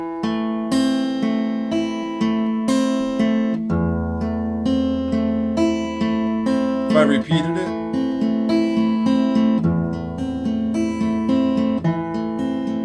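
Classical guitar plays measures 13 and 14 of Giuliani's Allegro as a repeated passage of plucked notes with a steady, flowing rhythm, close and clear; someone speaks briefly partway through.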